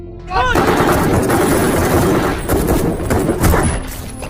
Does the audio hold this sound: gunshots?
yes